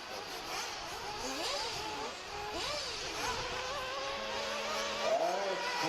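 Dirt race car engines, nitro-class machines at a practice session, drone and rev across the track in overlapping passes, pitch sweeping up and down as cars accelerate and lift, steady and fairly loud throughout with no talk.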